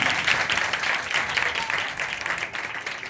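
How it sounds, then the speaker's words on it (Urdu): A church congregation claps loudly and steadily during a worship service, a dense, continuous wash of applause with no pauses. "اور ایک بار اپنے لیے بھی زوردار تالیاں بجائیے"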